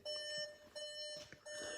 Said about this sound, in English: God, that alarm is fucking annoying.